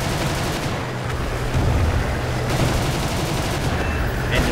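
Aircraft machine guns firing in War Thunder, with the nose gun jammed, produce a dense, continuous roar of rapid gunfire that stays loud and steady throughout.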